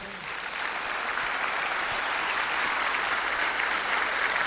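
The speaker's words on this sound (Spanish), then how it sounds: "Un aplauso pues para el hermano." A church congregation gives steady, dense applause that swells slightly and holds at a moderate level throughout, with no voices above it.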